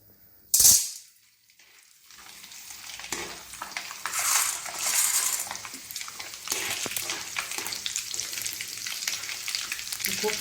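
Tapioca pearls (sabudana) hit hot oil that already holds peanuts and slit green chillies, giving a sharp burst of spitting at the moment they drop in, followed by a steady, close, crackling sizzle that builds and keeps going.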